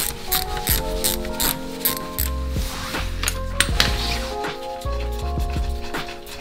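Socket wrench ratcheting on the wheel lug nuts of a Toyota Corolla during a tire change, a loud, close run of quick metallic clicks with brief pauses and clunks, no talking.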